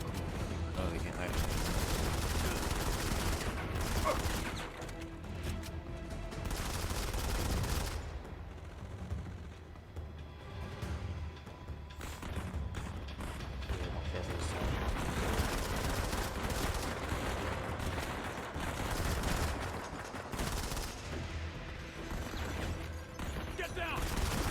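Heavy automatic gunfire in the Modern Combat 5 shooter: dense, loud bursts and volleys fill most of the stretch with brief lulls, while a voice talks over the shooting.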